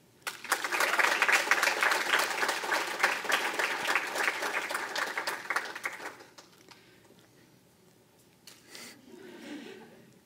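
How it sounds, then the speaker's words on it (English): A crowd bursts into loud, sustained applause at the Belle Plaine Bar-B-Q Days 2020 coronation, with dense clapping for about six seconds before fading to a quiet room with faint scattered sounds. "Big round of applause."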